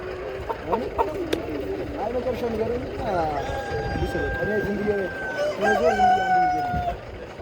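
Roosters crow and chickens cluck at a busy holiday chicken market in Ethiopia, several long crows rising above steady crowd chatter and people talking nearby.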